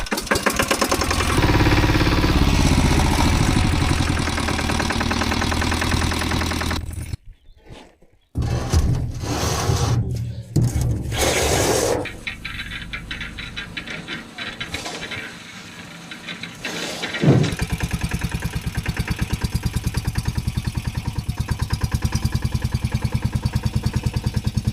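Tractor engine chugging and clattering steadily for a long stretch while the machine is moved, with a brief dropout partway through before the rough, knocking drone returns loud and close.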